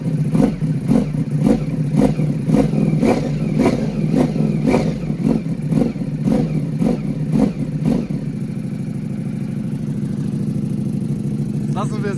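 A 2024 Ducati Panigale V4 "Francesca Edition" customer-build motorcycle has its engine blipped in a rapid series of about a dozen evenly spaced throttle revs, loud and close, then settles into a steady idle.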